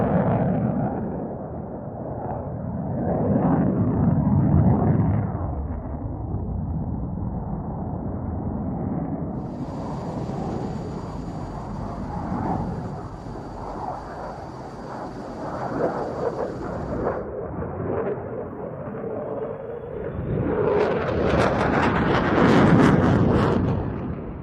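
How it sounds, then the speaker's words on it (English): Swiss Air Force F-18 Hornet jet flying a display, a loud sustained roar that rises and falls as it passes, swelling into a harsh, broadband blast near the end. "the F-18 from the Swiss Hornet display team"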